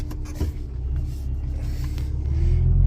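Low, close rumble of a farm tractor engine in a bale yard as it shifts into first gear, with faint mechanical creaks early on and the engine note swelling louder toward the end.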